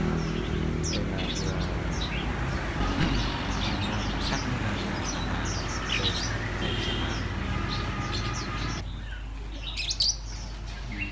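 Caged white-eye birds chirp in a bird shop in Bac Giang, Vietnam. Quick, high, scattered tweets come from several birds over a busy, rumbling room, ending with a brief burst of chirping.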